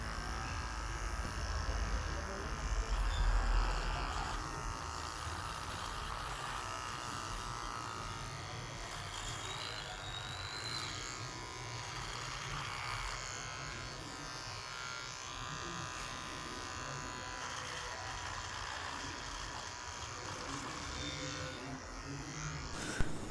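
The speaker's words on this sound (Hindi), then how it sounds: "अब घर पे ही ट्रिमर है, ट्रिमर से ही काट लेते हैं" An electric trimmer cutting a beard buzzes continuously for a long stretch, its steady whine wavering slightly as it moves, close and fairly quiet.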